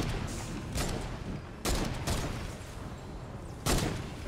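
Heavy bursts of gunfire from a witch enemy in Fortnite's player-versus-environment mode roll through a dense, loud game soundscape. Roughly four thick volleys land at uneven intervals, each followed by a rumbling decay.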